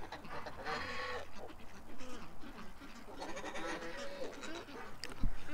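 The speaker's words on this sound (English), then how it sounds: "We got a lot of female geese" Geese, mostly females, honking and calling around a pond in a cluttered, overlapping chorus at close to moderate distance, with a brief low thump near the end.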